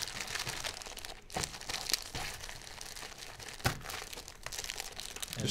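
Plastic-wrapped Future Card Buddyfight booster packs shuffled by hand, a steady close crinkling and rustling of wrappers with sharper crackles now and then, with no talk.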